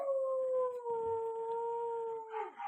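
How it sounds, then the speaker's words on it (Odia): A dog gives a long, steady, clear howl holding two tones, fairly faint and distant, ending with a brief rougher vocal noise. "ଆମର କୁକୁର ଫୁଟୁଛନ୍ତି। ହେ କାଇଁ ପାଟି କରୁଛ କି?"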